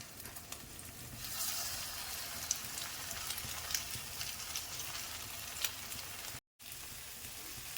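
Bread dipped in a potato and cheese mix sizzles softly in hot oil, a steady hissing crackle with occasional pops, faint and continuous apart from a momentary gap near the end.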